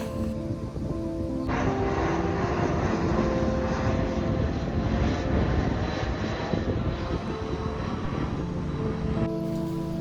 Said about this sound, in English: There have been planes flying at low altitude over the last couple days